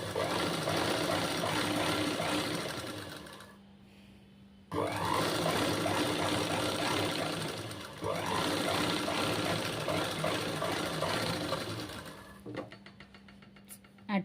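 A sewing machine stitching slippery lining fabric runs in long steady whirring bursts with short pauses between them, close and fairly loud, with a voice speaking faintly in the background.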